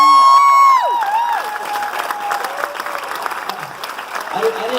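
Audience applause at a veterans ceremony aboard the Carnival Dream cruise ship, a steady wash of clapping from a crowd that follows a fading tone.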